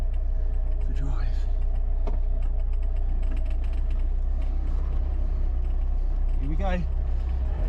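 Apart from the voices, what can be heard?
Rover P6 car put into drive and pulling away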